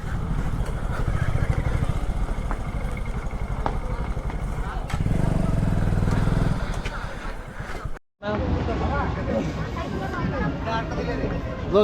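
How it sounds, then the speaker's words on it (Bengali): A Honda Glamour 125cc motorcycle idles with a steady engine rumble as it is eased into a parking spot, a brief cut near the end, with voices around it. "বাইকটা পার্কিংয়ে দিই।"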